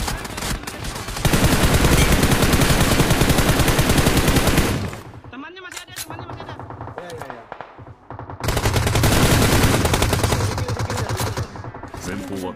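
Rapid automatic gunfire in a battle royale tournament match, two long loud sustained bursts separated by a quieter stretch of scattered shots, with the players' voices calling out alongside.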